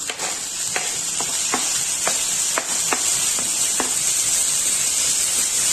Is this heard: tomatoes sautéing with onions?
yes